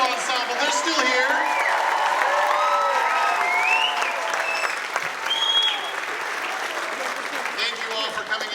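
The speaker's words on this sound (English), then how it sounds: "Another round of applause for the middle school ensemble." A concert crowd at a middle school honor band performance gives a full, steady round of clapping, with voices and a few light cheers audible over the applause.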